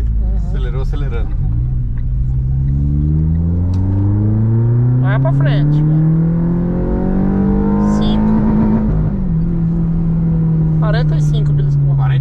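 Car engine revving as it accelerates, with rising and falling harmonic engine tones over a steady rumble, close and loud while people talk throughout.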